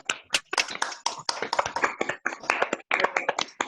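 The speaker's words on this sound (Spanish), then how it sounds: "Vamos a darle un aplauso." Audience applause breaks out after thanks at the close of an online talk about Carina, a coronavirus chatbot, with dense irregular claps running steadily for several seconds at moderate level.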